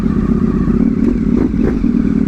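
A Ducati Panigale V4 S with an Akrapovic exhaust idles loud and close in a dealership parking lot, with a steady throbbing rumble and a few light blips of the throttle, and no talking.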